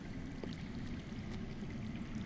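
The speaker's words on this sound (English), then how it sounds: "I hear water. From underground." Steady low rush of underground flowing water in the Game of Thrones video game, a continuous muffled stream that stays even and fairly quiet throughout without any voices.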